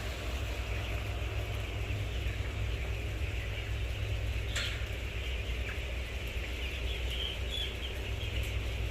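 Fifteen-day-old broiler chickens in a house bedded with reused rice husks make a dense, continuous mass of peeping and clucking over a steady background hum.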